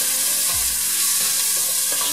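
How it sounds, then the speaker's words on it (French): Onions frying in a pan for a vegetarian lentil shepherd's pie, a steady close sizzle throughout with a brief low clunk of the pan or utensil partway through. "En même temps que les oignons sont en train de frire"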